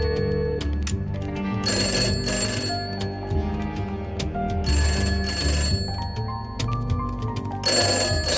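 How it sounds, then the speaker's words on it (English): A phone rings repeatedly in bright electronic bursts over steady background music, with no voices, in the indie horror video game Lucius II. "Sir, the phone is ringing."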